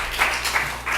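A church congregation at a Korean Sunday worship service applauds, a brief wash of many hands clapping together at steady loudness.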